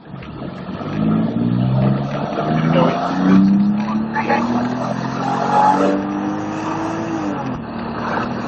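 A supercar's engine pulls hard under throttle out of a left-hand corner on a track, its rising harmonic drone loud and continuous, with a voice speaking briefly over it.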